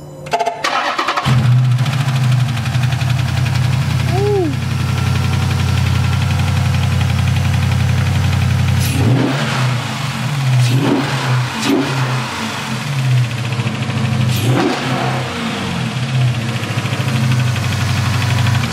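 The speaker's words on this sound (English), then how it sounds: "he's gonna give me a little cold engine start" Dodge Charger SRT8 392 V8 cold-starting with a loud crank and catch, settling into a deep, steady idle, then several sharp revs blip up and fall back in the second half, close and loud.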